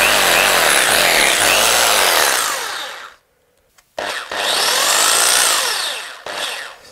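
An AEG power drill running off a Bluetti AC200MAX portable power station whirs loudly and steadily, cuts out for about a second, then starts up again and runs before a brief final burst.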